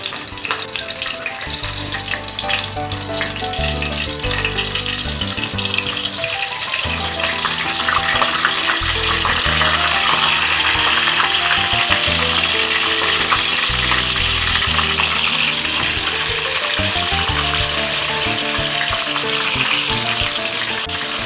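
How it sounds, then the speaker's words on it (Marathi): Masala-stuffed eggplants fry in hot oil in a pan over a low flame, giving a loud, continuous sizzle and crackle under background music. "तेल तापलेलं आहे आपलं, मी गॅसची फ्लेम आता स्लो करते आणि हे एक एक वांग यात सोडून देणार आहे मी"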